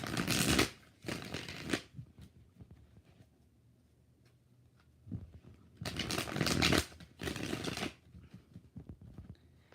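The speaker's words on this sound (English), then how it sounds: "2 more shuffles." A tarot card deck is shuffled close by in two pairs of quick riffling bursts separated by a few seconds of near silence.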